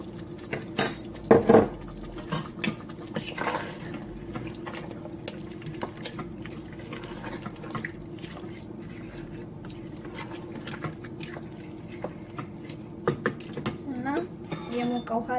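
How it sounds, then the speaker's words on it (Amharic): Hot water is poured into a simmering potato and meat stew, a soft splash and patter among light clinks of pot and utensils, with a quiet voice speaking now and then. "ትንሽ የሞቀ ውሃ ጨምራለሁ፣ አከልሰዋለሁኝ።"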